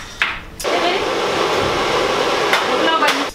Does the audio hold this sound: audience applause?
no